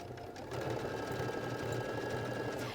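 A Baby Lock sewing machine fitted with an edge joining foot stitches fabric in a steady, close, continuous mechanical hum with a rapid needle rhythm, and no talk over it.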